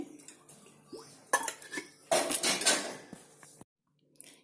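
A metal pot clanks and scrapes as it is set down on a stove and shifted, with clinking utensils nearby, then a short silence.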